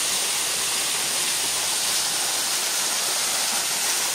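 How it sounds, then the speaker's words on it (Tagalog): Small but tall mini waterfall at Dibalo in San Luis, Aurora, a steady close rush of falling water filling the whole stretch without a break. "Yan, pinaka mini falls pero mataas naman to."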